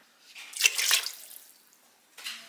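Tap water poured into a cup for cooking rice, a short splashing burst followed by a second brief pour, close and with no talk.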